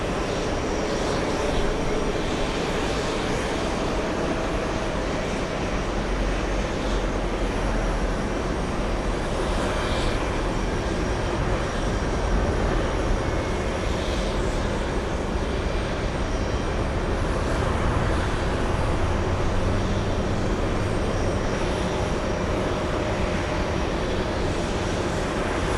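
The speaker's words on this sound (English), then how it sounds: "Let's go over to the Japanese A350 1000 flying in from Haneda" A Japan Airlines Airbus A350-1000 arrives at JFK from Haneda, its dense, continuous engine roar filling the whole stretch with slight swells and no talking.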